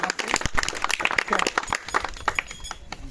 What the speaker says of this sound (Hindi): ताली मारो जमका के